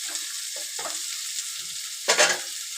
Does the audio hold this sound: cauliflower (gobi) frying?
yes